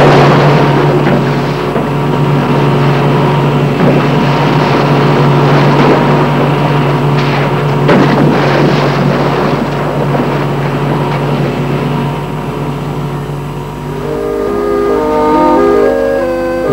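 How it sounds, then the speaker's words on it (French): Boat motor droning steadily at sea, a loud continuous hum with wind buffeting, shifting in pitch near the end as the engine changes; no talking. "Les bruits de moteur interfèrent avec le sens de l'orientation de Clyde."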